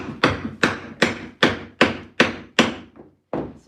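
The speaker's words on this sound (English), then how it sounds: "Alright, I got a hammer." Hammer striking wood to tap a cabinet foot down flush, eight loud sharp blows at an even pace, a short gap before the last, close and with no speech.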